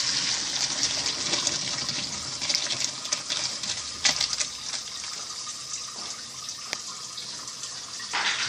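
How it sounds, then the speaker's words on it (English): Cooked lentil spaghetti drained in a strainer as its hot water pours out in a broad continuous rush, close and fairly loud, with occasional clatter and no speech. "Next we will strain the pasta."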